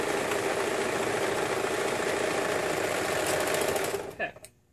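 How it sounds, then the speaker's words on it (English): A serger sewing machine runs steadily at high speed, stitching the side seams of a buttercream-colored romper, a loud continuous whir that stops abruptly near the end, followed by a few brief clicks. "Super quick and easy, which is why I love the serger."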